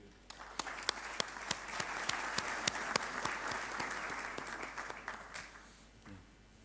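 A conference audience applauds the speakers, a full round of many hands clapping that swells, holds steady for several seconds, then fades out near the end.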